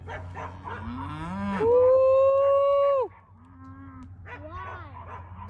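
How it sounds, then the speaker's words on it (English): Calves on a farm mooing, one long drawn-out moo rising and holding loud and close, with shorter, fainter lowing before and after and a brief spoken word. "And our calves hear us, so they're slowly coming."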